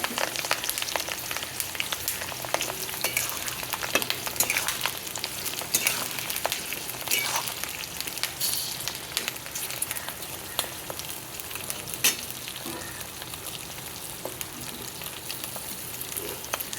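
Slit green chilies fry in hot oil on a lowered flame while a spiced chili oil is made, giving a dense, steady crackling sizzle that runs unbroken and fairly loud throughout.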